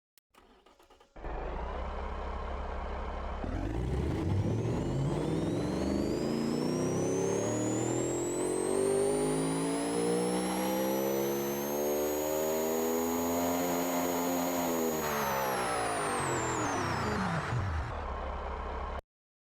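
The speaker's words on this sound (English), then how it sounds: "That is a loud engine." A loud car engine in the Automation video game revs steadily upward to a high whining peak, holds, then drops back, with a supercharger whine riding on top and no talk.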